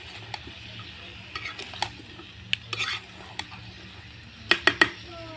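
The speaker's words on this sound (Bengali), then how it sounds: "এখন নাড়া দেব" Radish is stirred into a fried spice mix in a pan, with a spoon scraping and clinking against the metal in scattered knocks over a soft sizzle.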